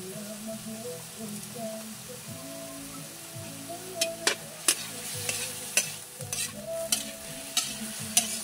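String beans with oyster sauce are stirred in a frying pan: a soft sizzle under low, droning tones, with sharp utensil clicks and taps coming at intervals in the second half.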